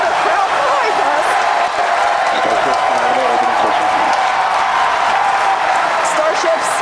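A crowd watching a SpaceX Starship launch cheers and applauds at ship engine cutoff, a steady wash of clapping and cheering from behind that runs throughout, with a person talking over it.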